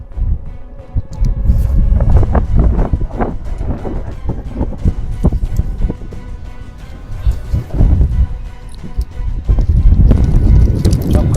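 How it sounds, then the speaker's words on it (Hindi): Strong wind roars in heavy, fluctuating gusts over fast rushing water, loud and close, with deep rumbling buffets throughout, as a storm effect in a horror audio drama. "इतनी तेज हवा है ना, बैठा नहीं जा सकता, इतनी तेज हवा है"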